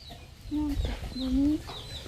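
Chickens clucking: a few short, soft clucks and drawn-out calls at a moderate distance over low rustling background noise, with no talking.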